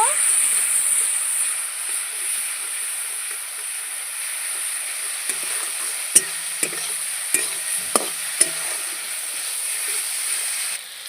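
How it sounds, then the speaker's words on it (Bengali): Ground spices with turmeric, chili powder and a splash of water being stirred and fried in a pan for a Khulna-style rohu fish head chorchori, a steady sizzling hiss with several sharp spoon scrapes and taps near the end. "সামান্য একটু জল দিয়ে দিচ্ছি পরিমাণ মতন হলুদ ভালো করে কষিয়ে নেব"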